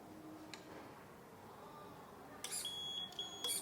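Electronic beeps from the control board of a 1/14 KCK RC hydraulic reach stacker (Terex TFC45 container handler) sound as a short cluster of high, thin tones late in the clip, over a low steady hum.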